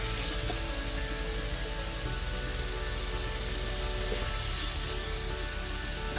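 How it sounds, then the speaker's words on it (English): Thick-cut bacon frying in a pan, giving a steady, close sizzle and crackle that holds an even level throughout with no talking. "So let's get started by cooking our bacon."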